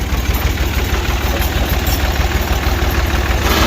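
A tractor engine idles at a road construction site with a loud, steady low rumble and rhythmic knocking throbs that run unbroken throughout.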